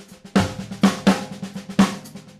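Four sharp, evenly spaced snare drum hits ring out in a tempo fill, each crack decaying quickly over a soft ticking pulse, close and clear with no talking.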